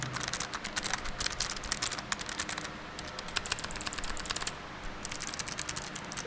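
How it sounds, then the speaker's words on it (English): Fast typing on a Logitech G915 TKL wireless keyboard with GL Clicky switches, a close, crisp stream of sharp clicky keystrokes in quick bursts with brief pauses. "This is the GL Clicky version with the clicky keys."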